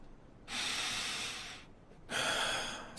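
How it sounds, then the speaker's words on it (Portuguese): Slow, labored breaths of a dying woman, two drawn-out airy breaths separated by a short pause, close and quiet with no talking. "A respiração diminuiu."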